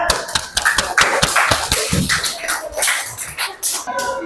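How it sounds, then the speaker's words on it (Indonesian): A class of students claps in a classroom, a burst of fairly dense, uneven applause from many hands lasting a few seconds at close range. "Kita beri tepuk tangan."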